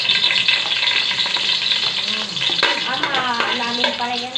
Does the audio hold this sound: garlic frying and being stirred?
yes